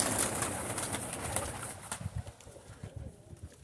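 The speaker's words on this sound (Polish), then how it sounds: "To jest naprawdę porządny gołąb, lotny ptak." Pigeons coo in soft, low, repeated throaty calls close by, with some light rustling and a high chirp early on, no talking.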